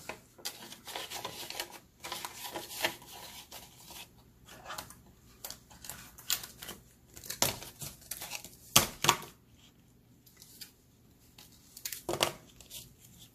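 Paper cash bills and budget envelopes rustle, crinkle and slide in quick irregular bursts with short pauses, close and fairly quiet, with no talking.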